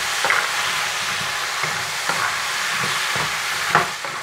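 Chicken with cashew nuts stir-fried in a pan, a constant close sizzle with periodic scraping strokes of the spatula every half second or so.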